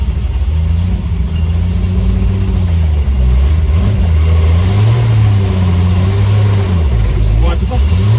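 Triumph TR5 historic race car with a high-lift cam, engine running close by at a rough, lumpy idle, the revs rising and dipping unevenly in a steady, loud drone.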